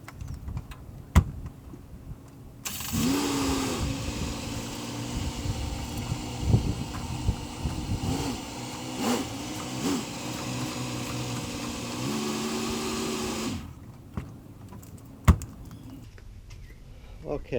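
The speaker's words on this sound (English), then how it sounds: "put the car down, drive it back and forwards a few meters" A Mitsubishi Pajero's engine starts and runs at a low idle as the car moves back and forth a few meters outdoors, steady droning for about ten seconds before it shuts off, with a few clicks and thumps around it.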